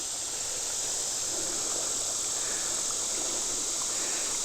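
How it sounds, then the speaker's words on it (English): A river in Howell County, Missouri flows under a highway bridge, giving a constant broad rushing hiss of moving water, steady and fairly close, with no voices. "Thought I'd stop and take a look at this river running down through here."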